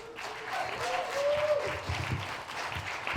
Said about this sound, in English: Clap for everybody!